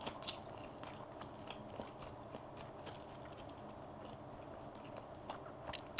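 Someone quietly chews a mouthful of grilled eel, soft wet bites and small crunchy clicks repeating irregularly, close but faint, with no talking.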